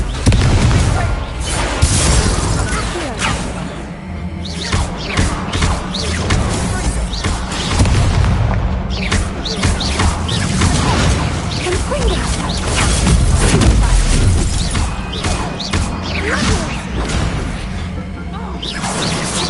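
Hogwarts Legacy combat bursts with the Confringo explosive spell, loud booms, crashes and whooshes piling up in a dense, chaotic barrage across the whole stretch, with voiced shouts mixed in among the blasts.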